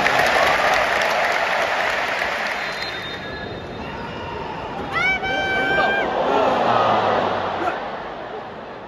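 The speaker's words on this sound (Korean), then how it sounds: "여러분 경기의 박수를 보내시기 바랍니다." A large crowd applauds at a football match in a Seoul stadium, with broad sustained clapping and babble under a loud public-address voice; a brief whistle-like tonal sweep cuts through midway.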